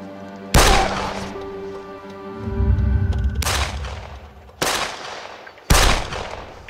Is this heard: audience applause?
no